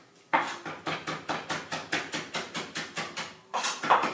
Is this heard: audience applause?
no